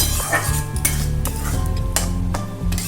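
Turmeric, Kashmiri chilli powder, salt and sugar being stir-fried in a pan with garlic: loud, close metal spoon scrapes and clatters against the pan in a quick uneven rhythm over a steady sizzle.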